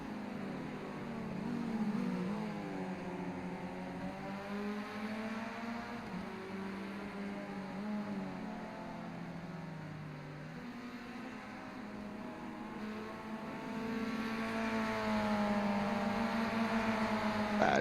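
A roadster race car engine on the main straight on the final lap, a steady droning whine that climbs and dips in pitch as it holds speed, moderately loud and continuous with no voices.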